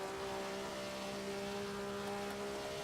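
Race car engine in Assetto Corsa held against the rev limiter, a steady high-pitched buzzing drone with strong harmonics, loud and continuous.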